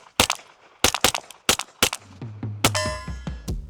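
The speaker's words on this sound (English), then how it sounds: "Let's keep shooting it." Suppressed 9mm pistol shots fire in a quick string of about eight close, sharp reports with short metallic ringing tails, evenly spaced at a steady pace, with no talking.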